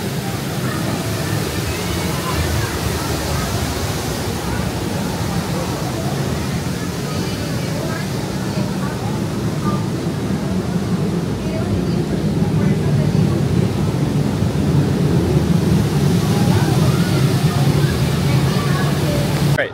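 Continuous loud rush and splash of water on a flume ride at Knott's Berry Farm, a steady broadband roar that stays close for the whole stretch, with voices blended into the noise.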